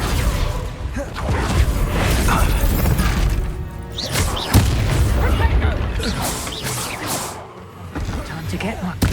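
Confringo fire-blast spell explosions in the Hogwarts Legacy video game: repeated loud booms and crashing bursts amid whooshes and dense combat noise, with voices over the action.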